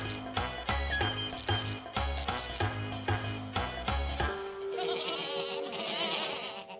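Cartoon sheep bleat in a repeated, rhythmic series of loud, close bleats, which give way to a softer, wavering musical tail.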